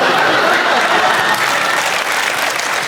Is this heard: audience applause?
yes